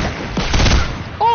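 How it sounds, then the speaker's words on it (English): Sniper rifle shot in an online video game, one sharp crack followed by a short tail, with a brief electronic tone after it. "Oh, I sniped them."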